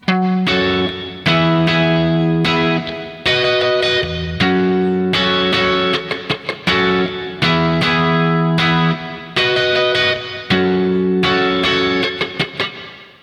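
An effects-laden electric guitar strums the chorus chords of a song in E, a repeating pattern, bright and loud, with choppy rhythmic strums between sustained chords.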